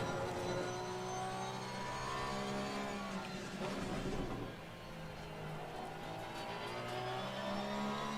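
A Lamborghini race car engine in the racing sim Assetto Corsa Competizione, lapping the Nürburgring in practice. It hums steadily and loudly under load, with the pitch shifting through gears and a brief dip midway, and no talk.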